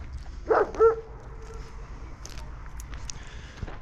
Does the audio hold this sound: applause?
no